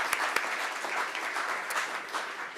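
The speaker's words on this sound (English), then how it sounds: "So we'll give them a round of applause" A city council meeting audience applauds employees honored for years of service, a steady crowd clapping with a few sharper close claps standing out, no one talking over it.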